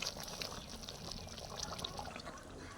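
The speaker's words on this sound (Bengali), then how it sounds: "একটা পাত্রের মধ্যে আমি এটাকে ঢেলে নিলাম।" Cooked chicken curry poured into a bowl, a steady wet pouring and trickling sound that runs the whole time at low level, close by, with no talk.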